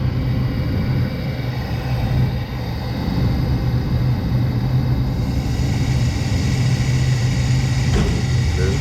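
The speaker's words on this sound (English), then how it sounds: "I have to do an amp draw on that motor. It's got a little noise to it." A furnace blower motor runs in a steady, loud, close drone with a low hum and a faint extra noise riding on top, unbroken throughout.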